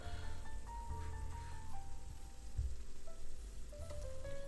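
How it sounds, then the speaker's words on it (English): Wine simmers in a pan while its alcohol cooks off, giving a soft steady sizzle and bubbling close by, quiet and continuous with no talking. "I'm gonna cook the wine for about 5 minutes to allow the alcohol to evaporate"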